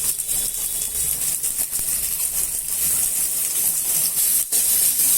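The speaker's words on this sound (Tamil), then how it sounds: "வெங்காயத்தை வதக்கிக்கலாம்" Large onions sautéing in hot oil in a pan, giving a steady close hiss and sizzle throughout with faint rattles and no talk.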